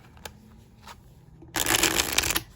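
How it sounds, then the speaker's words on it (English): A tarot deck being riffle-shuffled close by, a brief quiet tap or two, then a loud, dense burst of shuffling. "let's go ahead and give this guy a shuffle"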